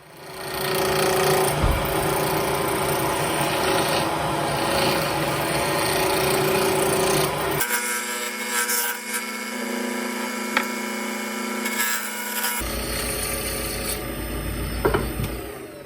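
A roughing gouge rasps steadily against a square blank of yew wood spinning on a lathe, a loud continuous scraping whir that cuts off briefly midway, leaving a quieter hum, then resumes.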